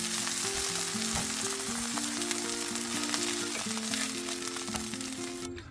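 Sausages with browned skins sizzle steadily in a hot pan, a loud continuous crackling fry with no voices.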